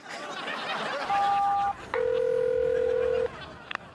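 Telephone being dialed for a call: a steady dial tone followed by long sustained keypad tones, clean and close, ending with a few short clicks.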